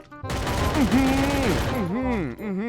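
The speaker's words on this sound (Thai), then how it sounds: "ยิงไกล ยิงไม่เข้าเลยครับ" Rapid gunfire in the Free Fire battle royale video game forms a dense, loud, continuous rattle that sits under excited shouting throughout.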